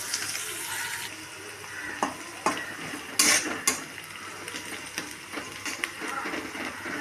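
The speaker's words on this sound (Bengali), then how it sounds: "পেঁয়াজটা সুন্দর ভাজা হচ্ছে" Onions frying in a pan for a chicken dish, a steady broadband sizzle with occasional stirring clatters and a few sharper utensil knocks against the cookware, close and moderately loud.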